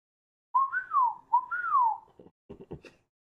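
Someone whistles a two-part rising and falling call twice, clear and close, followed by a few short clicks and knocks.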